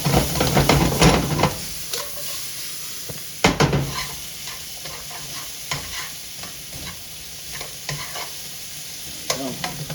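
Leftover stir fry sizzles and crackles in a hot pan with steady frying hiss, punctuated by several louder bursts of stirring and scraping at close range; no talking.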